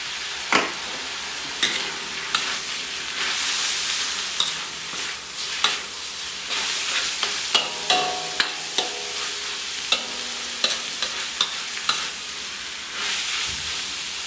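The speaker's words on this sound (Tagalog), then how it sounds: "Kaya hayaan muna natin na medyo maluto-luto itong giniling." Frozen ground meat and hotdog fry in a pan for Filipino-style spaghetti sauce, a steady close sizzle broken by repeated sharp scrapes and clacks of a utensil stirring, with no voices.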